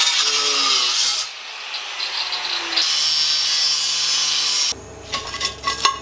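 Power tool cutting metal bar stock into pieces for angle iron, loud abrasive grinding in bursts that start, pause and resume, with pitch changes as the cut progresses and clattering handling noise near the end.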